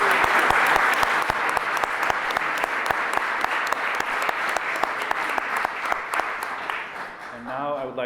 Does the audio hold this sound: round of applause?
yes